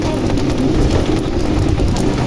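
Fine afternoon rain falls at Sítio Riacho Verde in the Pernambuco backcountry, a loud dense steady hiss of drops pattering on surfaces nearby, unbroken throughout with no talking.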